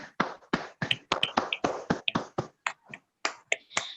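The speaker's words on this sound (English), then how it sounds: "Please give a huge round of applause to Miss Sirsekar Shreya." A handful of people clap for a prize winner at a month-end prize ceremony, sharp separate claps in an uneven patter, close and distinct with short gaps between them.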